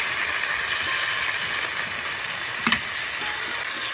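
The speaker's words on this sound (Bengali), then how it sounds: "এখন আমি সর্ষে বাটাটা ছেঁকে দিয়ে দেবো।" Strained mustard paste hitting hot oil in a pan while a tangy, spicy fish curry is cooked, a loud steady sizzle and crackle throughout with a brief clink of stirring near the end, close and without talk.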